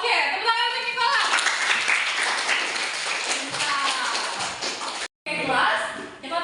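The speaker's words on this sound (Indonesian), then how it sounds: "tepuk tangan untuk Nikola" Classroom applause for a student, a short burst of clapping from a class mixed with chatter and shuffling, fairly near, ending after a few seconds.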